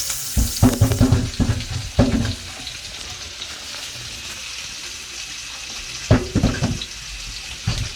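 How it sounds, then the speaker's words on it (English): Potatoes washed under a running kitchen tap, with a steady stream of water and bursts of splashing and knocking as they are handled in the sink near the start and again toward the end. "So of course we're just going to wash the potatoes."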